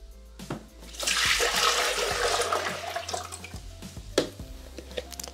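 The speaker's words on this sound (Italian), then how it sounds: "Iniziamo la ricetta mettendo all'interno del boccale l'acqua." Water pours into a Thermomix jug with a steady splashing rush that swells and then tapers into lighter trickles and drips, close up with no talk.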